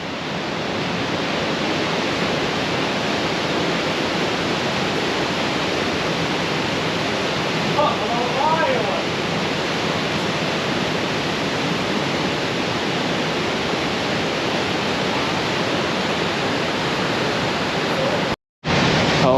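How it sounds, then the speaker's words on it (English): A waterfall near a cave at Lake Louise in Banff roars as a loud, dense, unbroken rush of water, close by and steady throughout, with a brief dropout near the end. "I'm not sure if you guys can hear me over the waterfall."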